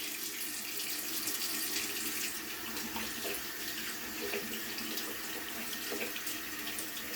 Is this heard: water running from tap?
yes